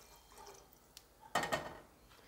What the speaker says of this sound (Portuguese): agora eu vou colocar a água que eu deixei esquentar